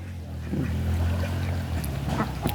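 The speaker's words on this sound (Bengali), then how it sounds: "হাঁস ওই সাইডে আছে ওই সাইডে হাঁস আছে" Ducks by a farm pond give a few scattered quacks over a steady low drone, fairly close.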